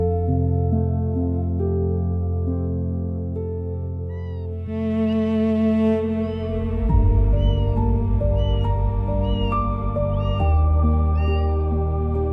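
A tiny kitten found alone on a road gives thin, high mews, repeated several times. The cries play over steady background music, and no one talks.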